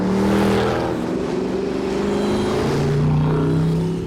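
A Mercedes AMG 6.2-litre engine roars loud and close, holding a strong, steady growl that swells and dips slightly, heard alone without voices.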